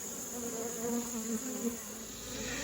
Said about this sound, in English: You can see this colony is just covered up with bees